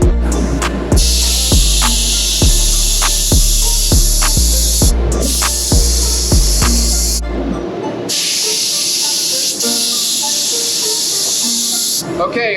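Spray gun laying a first coat of clear over a pearl white car, a steady loud hiss in long sustained bursts with a short pause between passes and a low hum underneath.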